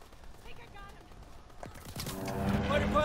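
A fighter plane's strafing run in the World War II shooter Call of Duty: WWII: quiet at first, then a burst of rapid gunfire swells into a loud, dense rattle over the last second, with a voice briefly audible.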